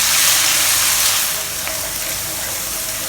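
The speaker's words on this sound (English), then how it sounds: "First we'll fry the shallot paste until fragrant." Shallot paste frying in a pan over medium-low heat for homemade sambal chilli with dried shrimp, a steady, even sizzling hiss that stays constant throughout and eases slightly after the first second, with no talking.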